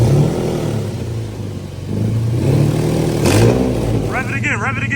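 Nissan 370z with resonated test pipes, its engine idling loud and close before surging in revs. A person speaks briefly over the engine, and a high squeal enters near the end.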